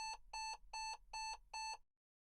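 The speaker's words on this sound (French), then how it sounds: "le système émet une alerte" Mercedes W177 Distronic distance assistant warning, five identical sharp electronic beeps in a quick, even rhythm, clear and close, ending in silence.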